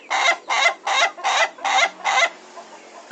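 An Ayam Ketawa laughing rooster crows in a rapid series of six even, cackling bursts evenly spaced like laughter, loud and close, then trails off into quiet.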